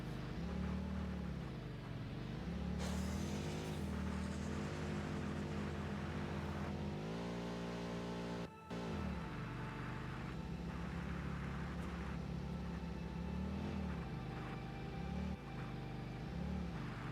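A truck driving in the video game Satisfactory, a steady droning engine with shifting revs and a rumbling low end, continuous and fairly loud, with a brief cut partway through.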